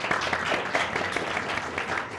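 A crowd of spectators applauds at a university-hosted political debate event, a dense, steady wash of many hands clapping throughout without a break.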